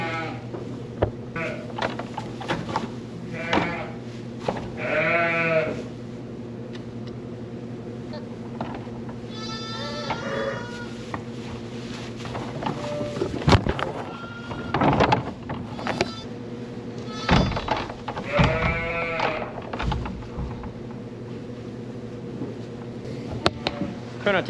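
A ewe bleats repeatedly and loudly at close range while she is backed into a corner, wrestled and checked for milk. A low steady hum and scuffling run underneath the cries.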